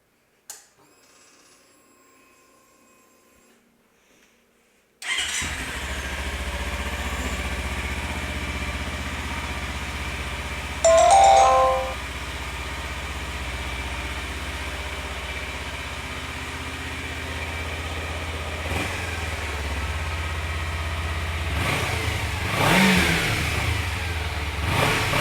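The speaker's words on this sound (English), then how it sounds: "this is a sound clip for it with the stock exhaust system" A 2013 Kawasaki Ninja EX300 Special Edition motorcycle with stock exhaust starts up and idles with a steady buzzing drone, broken by a few short throttle blips, close and fairly loud.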